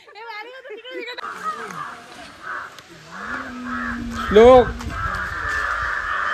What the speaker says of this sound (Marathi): कावळे बघ केवढे